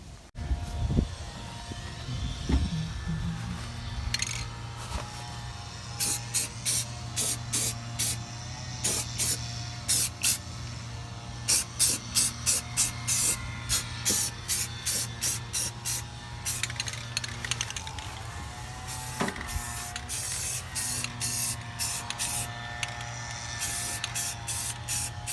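Aerosol Rustoleum satin black coating sprayed underneath a 2018 Ford F150 5.0 STX pickup, heard as repeated short hissing bursts in steady, rhythmic clusters over a low constant hum, close and fairly loud with no talking.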